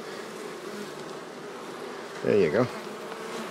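Bees at a hive being dusted with powdered pollen substitute hum in a steady, quiet drone, with a brief louder buzz of a bee passing close to the microphone; a person speaks briefly.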